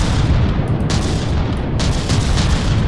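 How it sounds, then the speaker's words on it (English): A 500 millimeter battleship-style cannon fires in the video game From the Depths, loud broadband booms in quick succession with dense, rumbling low end and crackling tails overlapping into one another. "you can clearly hear that the 500 millimeter gun is not the coolest sound."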